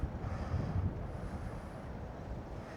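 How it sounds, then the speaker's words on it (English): Wind blowing across the microphone at a coastal campsite in Doolin on Ireland's Atlantic coast in County Clare, a steady low rumbling buffet with no voices. "Hopefully be able to hear me with the wind on in the background"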